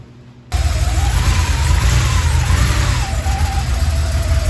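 A 1986 Porsche 911 Targa, pulled from abandoned storage and fitted with new spark plugs, fires up abruptly and runs steadily and loudly close by, its engine holding an even, rough hum.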